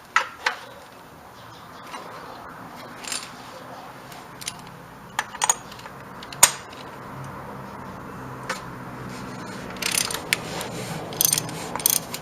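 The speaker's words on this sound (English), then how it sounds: "To do this, we're going to use an oil filter cap wrench like this." Oil filter cap wrench turning and clicking while removing the oil filter housing on a VW Jetta MK6, scattered ratchet-like clicks and metallic clanks over a quiet background, close and moderately loud, no talk.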